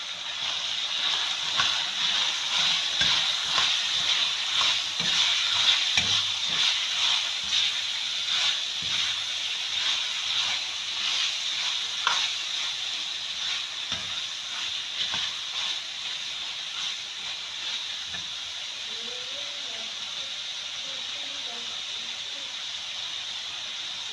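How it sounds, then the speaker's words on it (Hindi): Capsicum tossed into a hot pan for a Shimla mirch keema dish sizzles steadily, a continuous frying hiss with occasional stirring scrapes and light clinks, close and even for the whole stretch. "ये अब मैं इसमें डालूँगी शिमला मिर्च"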